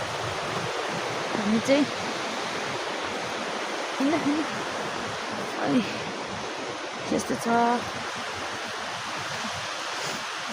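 A flowing stream runs as a steady broadband rush throughout, with a person speaking briefly in short bursts over the constant water noise.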